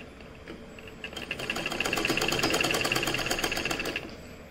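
A sewing machine runs steadily for about three seconds while stitching a square neckline, a close, fast rattling hum that ramps up and then stops, with no talk.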